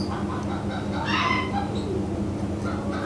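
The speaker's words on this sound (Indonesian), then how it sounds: "Aduh, ada suara ayam," Chickens cluck near a home garden, a steady busy fowl chatter over constant loud background noise for a few seconds, with no talk.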